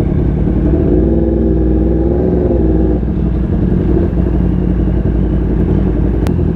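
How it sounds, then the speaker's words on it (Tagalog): A loud motorcycle engine roars close by with a rising and falling rev, its heavy droning growl staying strong throughout. "Skandalosong motor."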